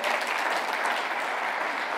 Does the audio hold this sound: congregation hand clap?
yes